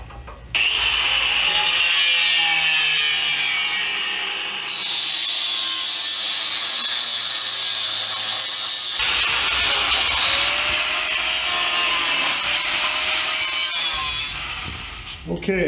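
A cutoff wheel on a power grinder loudly grinds part off a wooden beehive frame, a high whining screech that shifts pitch as it bites, running almost continuously with a short pause near the middle.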